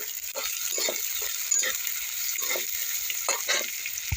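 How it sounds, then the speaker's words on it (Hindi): Onions fry in a pan with a steady, bright sizzle and crackle close by, with occasional soft scraping or stirring bursts and no talking. "इस प्याज को भी हम तब तक फ्राई करेंगे जब तक कि इसकी हल्की सी कलर न चेंज हो जाए।"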